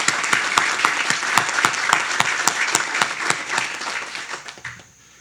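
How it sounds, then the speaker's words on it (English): A seated audience at a health center event gives a round of applause, dense clapping with a few sharp nearby claps, holding steady before tapering off into quiet at the end. "Please stand and give them a round of applause."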